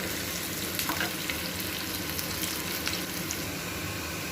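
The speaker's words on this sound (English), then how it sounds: "So you need to burn the onions a bit. Not exactly burn it, but what we say is caramelize the onions." Onions sizzle and crackle steadily in hot oil as they caramelize for a biryani, a dense close frying hiss with light stirring.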